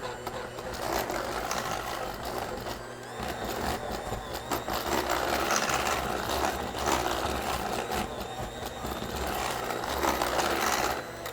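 A thick sour cream coffee cake batter churned by an electric mixer, a steady whirring drone that rises and falls slightly as it works, with no one talking.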